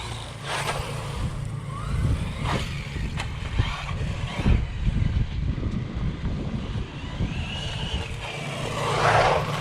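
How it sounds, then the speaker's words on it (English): A 1/14 scale brushless RC truggy drives outdoors with a whining motor and tires scrubbing on the surface, under steady wind noise on the microphone. "I love the tire squeal."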